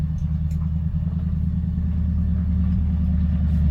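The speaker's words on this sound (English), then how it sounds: "Oh no, it's a neighbor in his dump truck." A neighbor's dump truck engine gives off a low, steady rumble that drones on evenly for several seconds at moderate loudness, with no voices over it.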